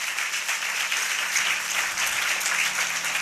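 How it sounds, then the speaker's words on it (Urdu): A church congregation at a sermon bursts into loud, dense applause that holds steady for a few seconds. "بجائیں اپنے لیے زوردار تالی"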